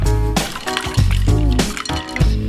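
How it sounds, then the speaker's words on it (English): Fennel drained out of ice water, with wet sloshing, dripping and splashing in repeated bursts, close and fairly loud, no talking. "Drain the fennel."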